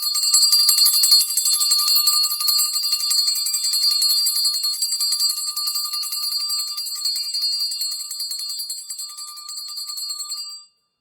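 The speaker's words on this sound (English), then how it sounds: "So I always have my bell, right?" A bell rings alone in a steady, bright, shimmering run that stays loud and sustained for about ten seconds, then cuts off abruptly.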